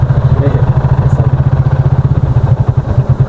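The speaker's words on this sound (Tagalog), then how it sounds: "Ano yun? Motor?" A motorcycle engine chugs loudly nearby on a steep road, with a rapid, pulsing low throb, idling steadily without revving.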